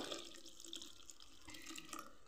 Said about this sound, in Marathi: हे गरम गरम पाणी यामध्ये मी असं टाकून घेणार आहे